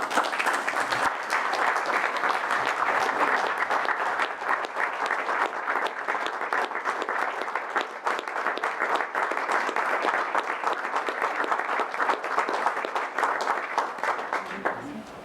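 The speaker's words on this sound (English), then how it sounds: "Tribal member, let's give applause to Mr. Norman Fisher." Sustained audience applause fills a tribal council meeting of the Cherokee Nation, steady and dense throughout with no pauses, many hands clapping together at moderate distance.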